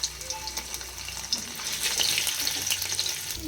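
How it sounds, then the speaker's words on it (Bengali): Soybean coated in cornflour and salt frying in white oil, a steady close sizzle with some watery bubbling and a few light stirring clicks, with no talk. "এটা একটু কর্নফ্লাওয়ার দিয়ে আর নুন দিয়ে এটা একটু তেলে, সাদা তেলে ফ্রাই করা হচ্ছে।"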